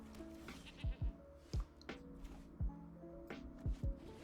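Goat tokens in Magic: The Gathering Arena bleat repeatedly in quick, short cries, about seven in a row, over the game's soft background music.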